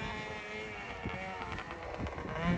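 Cold, breezy outdoor wind at around 3 degrees rushes steadily across the microphone, with a low engine-like hum running underneath and a few stronger gusts swelling near the end.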